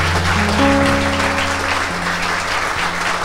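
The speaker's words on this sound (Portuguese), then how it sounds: "Se você pode dar uma salva de palmas para Jesus," Church congregation applauding: dense, sustained clapping from a crowd filling the hall, loud and continuous, with sustained music tones underneath.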